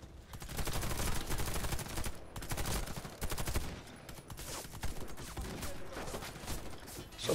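Sustained automatic gunfire from the video game Warface, a dense rattling stream of rapid shots with brief gaps, heard close and steady throughout.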